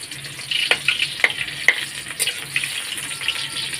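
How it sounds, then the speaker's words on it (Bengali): Chopped onions fry in oil after a tempering of black cumin, giving a steady close sizzle with sharp crackles and pops and a few stirring scrapes. "কালো জিরা ফোড়ন দেওয়ার পরে দেখো কাটা পেঁয়াজগুলো দিয়ে দিলাম"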